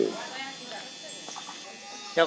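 A sheep bleats briefly at the start, and another bleat comes near the end, over quiet background rustle.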